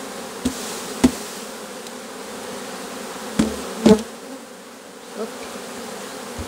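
Honeybees buzzing around an open hive during a split to make an artificial swarm, a continuous close hum with a few sharp knocks and taps from handling frames.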